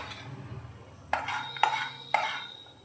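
Roasted peanuts stirred in a pan and scraped off, giving three sharp metallic scrapes and clatters at a steady pace over a low background hum.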